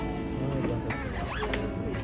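Zipper on a piece of luggage being drawn open or shut, a quick raspy zip lasting about two seconds, close and clear, with a faint voice behind it.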